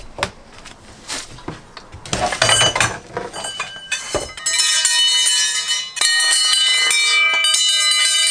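Wind chimes ring out in bright, overlapping metallic tones, starting with scattered clinks and building into a dense, sustained shimmer of chiming that continues to the end.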